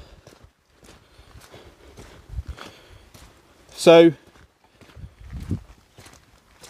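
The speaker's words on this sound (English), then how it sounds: "I can hear a bit of galloping around. It's a horse." Hoofbeats clop irregularly on hard ground while a horse whinnies once loudly in the middle, with a brief spoken word and a low snort, in Pitminster, Somerset.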